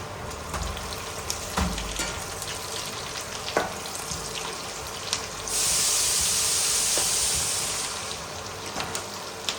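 Fish and eggplant curry with green chilies frying in a pan, a steady close sizzle with occasional stirring scrapes and a louder burst of hissing midway.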